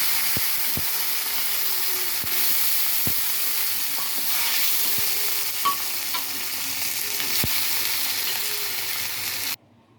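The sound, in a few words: red chickpeas frying in a tempering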